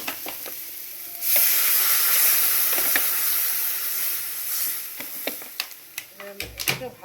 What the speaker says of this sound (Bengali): এখন এবার জল দিয়ে দেবো।